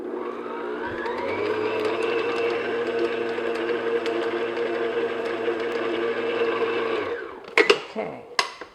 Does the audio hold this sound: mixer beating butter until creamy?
yes